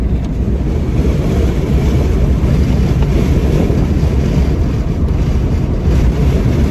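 Loud, steady buffeting of wind inside a Jeep Gladiator driving with the windows down, a broad roaring rush that fills the cabin with no pauses and no talk.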